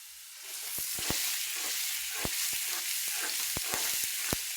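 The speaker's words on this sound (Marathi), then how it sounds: "तेल में ऐसा भून सकते हैं आप, बहुत अच्छा लगता है।" Ridge gourd fries in oil with a steady, close hiss of sizzling, broken by sharp clicks and taps of a utensil stirring in the pan.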